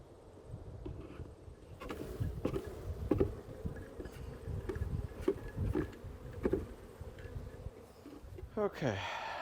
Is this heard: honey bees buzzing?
yes